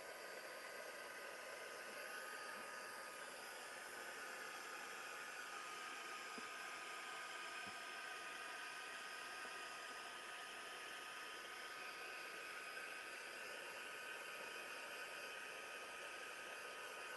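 A hair dryer blows steadily for the whole stretch, drying dots of paint on a mixed media craft piece; an unbroken, fairly faint airy whir with no talk over it.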